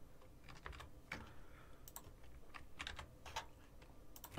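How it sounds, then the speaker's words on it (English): Someone typing on a computer keyboard, with irregular soft clicks of keystrokes at close range, faint and quiet throughout. "I'm just going to type in some random answers in here"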